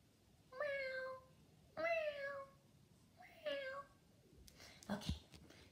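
A voice imitates a cat, giving three drawn-out meows in a row, followed by a brief burst of noise at the end.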